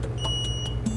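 A carbon monoxide air-line monitor beeps through its test sequence, giving short regular electronic beeps over a steady low hum of nearby equipment.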